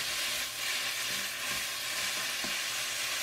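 Spinach stir-fried in a pan for a homemade side dish: a steady loud sizzle with soft stirring scrapes, continuous and close.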